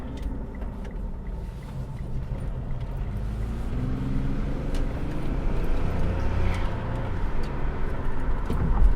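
Mitsubishi Outlander SUV under way, said to shake on acceleration: a steady low engine and road rumble that builds slightly as it speeds up, close and continuous with no talk.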